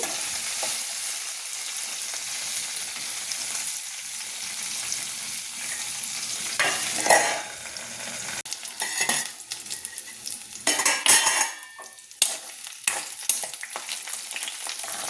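Ivy gourd frying in a pan while being stirred, a steady sizzle with scraping and clinks of a utensil against the metal pan, close and continuous without any talking.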